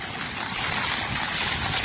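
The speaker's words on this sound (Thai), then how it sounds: "การเซาะที่รุนแรงของคลื่น" Strong storm waves from a tropical storm crash against an eroding beach shoreline, a dense continuous roar of surf and churning water, loud and steady with no voices.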